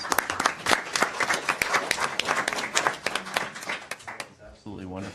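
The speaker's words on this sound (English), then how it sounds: "Again, I think we should give a round of applause." A room at a council meeting breaks into a round of applause, dense clapping from many hands filling the space for several seconds before fading as a voice begins.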